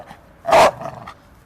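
A one-year-old Belgian Malinois lets out a single loud, harsh bark-growl burst at close range, followed by quieter rumbling and a faint second yap, with no talking over it.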